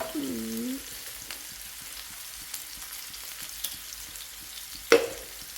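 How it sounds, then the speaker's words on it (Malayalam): Sliced onions fry in oil for a quail egg fry, giving a faint, steady sizzle with a brief tonal sound at the start and a short utensil clatter near the end. "സവോള ഇതുപോലെ നമ്മൾ ഈ ബിരിയാണിക്കൊക്കെ വറുത്തെടുക്കില്ലേ അതുപോലെ വറുത്തെടുക്കണം"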